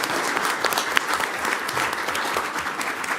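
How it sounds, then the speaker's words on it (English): Applause at a school board meeting honoring a student team, a brief burst of many hands clapping at steady volume, dense and continuous with no speech over it. "applause, please"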